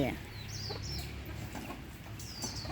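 Domestic village chickens cluck nearby, short repeated calls over a low background murmur.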